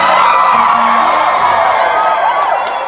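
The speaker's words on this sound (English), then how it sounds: "Cheer for me being responsible." Live concert crowd at a show in Eugene, Oregon cheering and whooping loudly, a dense sustained roar of many voices that tapers slightly toward the end.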